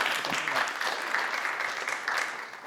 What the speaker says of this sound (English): can you give them a round of applause for making their way down?